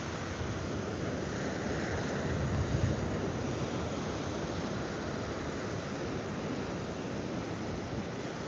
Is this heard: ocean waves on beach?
yes